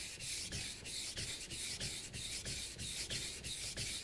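Steady back-and-forth strokes of a knife across a whetstone, roughly two rasping passes per second in an even rhythm, close up and alone with no talk.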